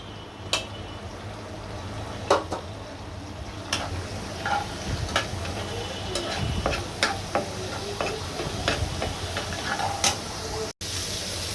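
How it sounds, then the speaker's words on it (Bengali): Prawns seasoned with salt and turmeric sizzle steadily in hot oil, a constant crackling fry broken by occasional sharp spatters and stirring clicks, with no talking. "চিংড়ি মাছটা আমার ভাজা হয়ে গিয়েছে, আমি এখন তুলে ফেলতেছি।"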